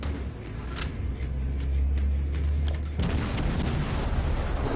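Naval cannon fire in World of Warships with an Atlanta premium cruiser in battle, a deep rumbling boom rolling on for several seconds, then a second heavy blast and crackling aftermath, no talk.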